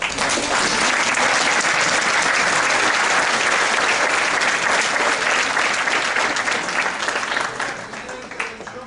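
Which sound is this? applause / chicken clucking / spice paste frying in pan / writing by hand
applause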